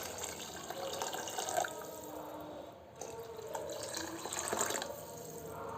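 Water poured into a pot of rice with green gram sprouts for kichadi, five cups for two, a steady splashing pour that dips briefly midway then continues close by.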